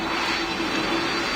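An N225 jet aircraft in the PTFS flight game produces a steady, loud engine roar with a constant whine, continuous and unvarying throughout.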